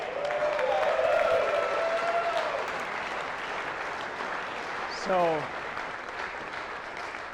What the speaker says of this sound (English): from the round of applause, you probably recognize